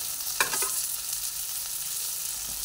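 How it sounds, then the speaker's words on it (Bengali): Chunks of bottle gourd (lau) fry in an oiled pan for a lentil dal, a soft steady sizzle with a few brief stirring scrapes near the start, no voices. "লাউগুলোকে দেওয়ার পরে লাউগুলোকে একটু ভেজে নিচ্ছি"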